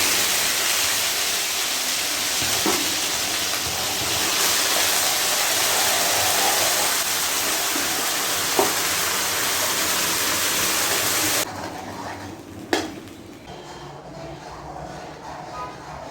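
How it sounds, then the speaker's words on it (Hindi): Prepared masala goes into a hot pan and is stirred, making a loud, steady hissing sizzle for about eleven seconds. It then drops to a softer simmer, with a couple of sharp utensil knocks. "हम अब डालेंगे मसाला जो हमने बना के रेडी किया था।"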